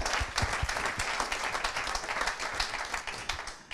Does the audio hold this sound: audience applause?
yes